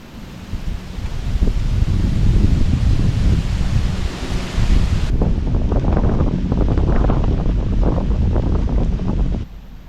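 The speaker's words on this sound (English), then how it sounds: "It's so windy, this tree's shaking like a mofo." Loud, continuous wind roaring and buffeting the microphone, with rustling leaves and branches of a shaking tree tossing throughout, cutting off abruptly near the end.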